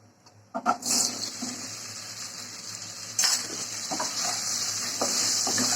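Boiled, peeled taro is lightly fried in a pan for a hilsa and taro curry, making a steady, faint hissing sizzle broken by a few stirring scrapes, with no talk.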